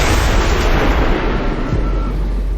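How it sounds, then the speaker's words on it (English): A loud, dense explosion from the XCOM 2 video game fills the whole moment with a sustained roaring rumble, heavy at the low end, with no talk over it. "that's gonna explode"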